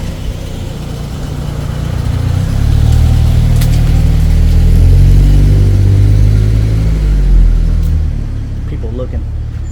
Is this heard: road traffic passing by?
yes